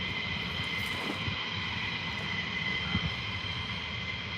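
A fixed-wing airplane moving toward the runway at an airport, its engine giving a steady, continuous drone with a high whine held throughout, moderately close and without talk.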